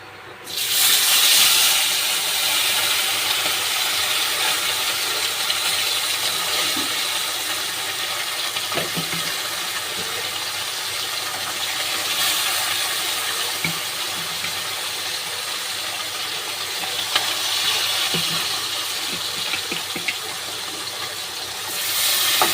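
Parshe fish go into hot oil to fry, producing a steady loud hiss and sizzle that barely changes over twenty-odd seconds, close to the pan.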